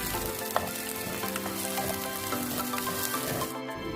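Onions sautéing in a pan for Alappuzha-style tuna curry, a loud continuous sizzle with occasional scraping stirs and a brief sharp tap near the start.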